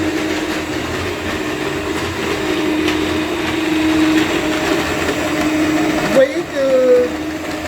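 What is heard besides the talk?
electric mixer mixing cake ingredients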